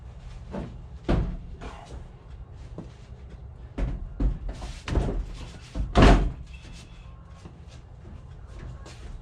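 Car body door or rear panel on a 1970 Plymouth Cuda during quarter panel replacement, lifted and latched: a series of sharp metallic thunks and clunks spaced irregularly, the loudest near the end, with quiet shuffling in between.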